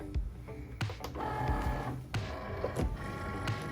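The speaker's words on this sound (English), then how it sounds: "We're gonna follow Cricut Design Space and load the mat." A Cricut cutting machine loads a cutting mat prepared with faux leather, giving whirring motor runs and mechanical clicks with several sharp knocks over about four seconds. The sound is close and steady, and no one speaks.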